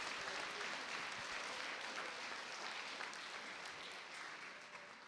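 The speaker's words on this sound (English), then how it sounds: "Let's give Ayanna Hensley one more round of applause" Sustained audience applause fills the room at an all-employee meeting, a dense, even patter of many hands that fades slightly toward the end, with no voices over it.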